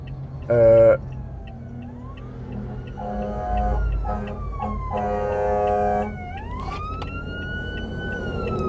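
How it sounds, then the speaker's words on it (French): A wailing ambulance siren rises and falls in repeated sweeping tones, loud and close, with traffic noise beneath it. "ambulance."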